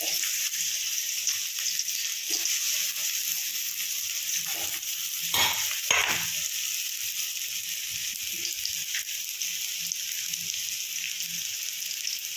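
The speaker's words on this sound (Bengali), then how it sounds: "এরপরে আমি একটুখানি তেল দিয়ে দেবো, দিয়ে কচুটা একটুখানি ইয়ে করে ফেলবো, হালকা ভাজা করে ফেলবো" Taro pieces lightly frying in a little oil in a pan: a steady soft hiss of sizzling, with a few brief stirring clatters near the middle, moderately close and unbroken.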